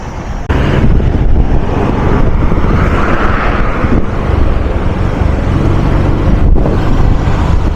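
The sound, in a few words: trucks driving on the Kampala-Jinja highway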